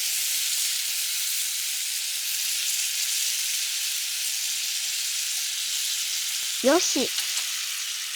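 Shiitake mushrooms with salt, pepper and yakiniku sauce sizzling in a frying pan, a steady close hiss throughout, and a brief spoken word near the end.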